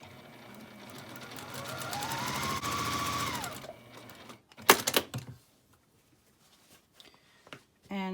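A domestic sewing machine runs a steady stitching burst of roughly four seconds while sewing a patchwork strip with a quarter-inch seam for a zipper pouch, then stops; a few clicks and handling noises follow.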